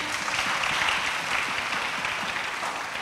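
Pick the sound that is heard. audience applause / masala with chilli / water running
audience applause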